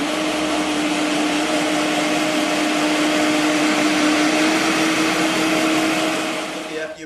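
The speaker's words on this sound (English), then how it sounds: "go ahead and use it to pre-vacuum first" A counter-rotating brush carpet cleaning machine pre-vacuums carpet, giving a steady, loud motor whine with a strong sustained tone that holds evenly and then winds down at the end.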